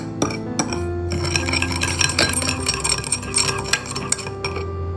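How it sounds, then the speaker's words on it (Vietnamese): A spoon clinks and scrapes against a small bowl while chili, soy sauce and water are stirred into a sauce, with quick repeated taps and rattles, close and fairly loud. "Cuối cùng thêm vào 2 thìa nước và trộn đều lên."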